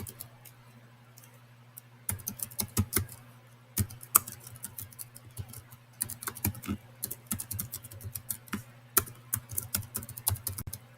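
Computer keyboard typing of sign-up details, with bursts of quick keystrokes starting after a quiet opening and continuing steadily in clustered runs over a low steady hum.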